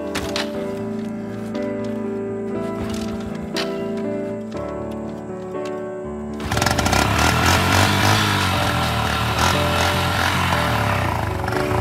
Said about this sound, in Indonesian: motor sudah nyala dan kita melanjutkan perjalanan teman-teman